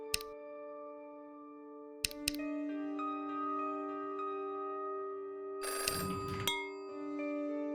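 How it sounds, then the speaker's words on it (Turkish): In the video game Bad Dream: Coma, a telephone rings with sustained bell-like tones, broken by sharp clicks and a brief rattling burst near the end, heard alone without talk. "Az önce telefon çaldı."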